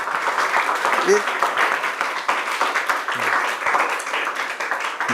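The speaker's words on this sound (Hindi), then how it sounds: "जोरदार तालियां सर के लिए" Loud applause for a teacher on a quiz-style show, steady dense clapping throughout with voices mixed in under it.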